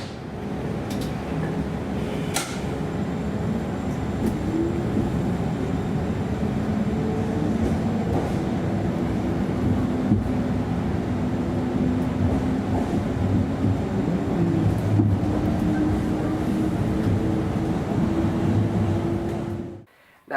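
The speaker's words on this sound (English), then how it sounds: "our Type 2s and 3s, which are nearly identical from the outside, sound unlike any other train I've ever been able to find" A Portland Type 2 or Type 3 light rail train's propulsion drones steadily and loudly for about twenty seconds, with a low rumble under a gently rising tonal whine, heard close and without talk.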